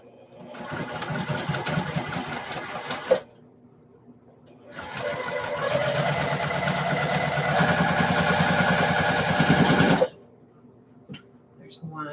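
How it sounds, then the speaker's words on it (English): Sewing machine stitching a straight line, two runs of steady close motor whirr with rhythmic needle clatter, a three-second stretch, a pause, then a longer five-second stretch, followed by faint handling. "I can sew a straight line."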